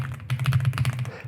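Rapid clacking keystrokes from a mechanical keyboard, typed in an uneven rhythm close to the mic over a low steady hum.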